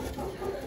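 An Aseel rooster of Thai and Pakistani cross, a Lasani bird, gives a brief, close, low clucking call over faint background noise.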